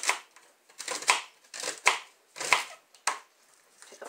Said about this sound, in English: Get these a rough chop.